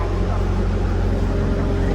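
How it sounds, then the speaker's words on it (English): A diesel engine idles steadily on a CDL Class B training truck, a loud, continuous low rumble that holds unchanged throughout with no talk over it. "This is how you turn the engine on,"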